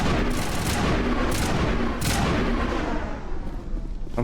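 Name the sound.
gunshots in the video game Mass Effect Legendary Edition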